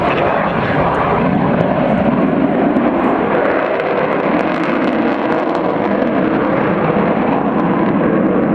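An Avro Vulcan's Olympus jet engines give a loud, dense, steady roar at an airshow, holding a constant level throughout without a clear wind-down.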